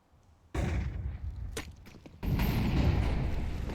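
Grenades and utility explode in a Counter-Strike match on the Vertigo map, with two heavy booming blasts in quick succession followed by sustained rumbling noise.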